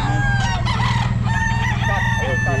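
A Kelso gamecock crowing up close at a busy pet market, a loud, strained crow with other roosters clucking and crowing around it over a steady crowd murmur.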